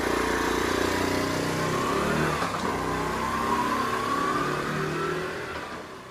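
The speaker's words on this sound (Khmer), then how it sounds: "ពួកគេទាំងពីរនាក់ក៏បានឡើងជិះម៉ូតូទៅរៀនទាំងអស់គ្នាទៅ" A motorcycle engine revs steadily and loud, then fades slightly as it rides off, with no voices over it.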